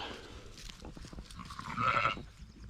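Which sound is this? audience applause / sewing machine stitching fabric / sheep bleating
sheep bleating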